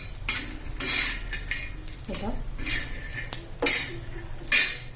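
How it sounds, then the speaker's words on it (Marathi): Grated coconut roasts in a little oil in a pan for garlic chutney, stirred with a utensil that makes repeated scraping, rustling bursts over a faint sizzle, close and fairly loud, with no talking. "थोडस तेल घालते खोबरं पण लाल होईपर्यंत भाजून घ्यायचंय"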